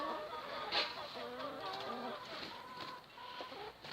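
Farmyard laying hens and a rooster cluck and murmur close by, several overlapping soft clucks in an irregular run, fairly quiet, with no talk.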